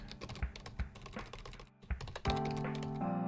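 Fast, close typing on a computer keyboard during programming, a dense clatter of key taps with a short pause, then continued keystrokes over a steady background hum.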